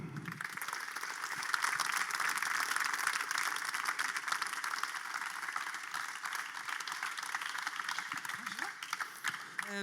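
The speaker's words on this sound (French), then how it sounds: "je vous demande de l'applaudir évidemment très fort" Audience at a trophy ceremony applauding an award winner, a dense, steady wash of clapping held at moderate distance for about ten seconds, thinning slightly toward the end, with a voice faintly under it.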